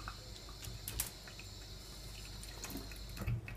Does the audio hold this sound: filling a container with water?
yes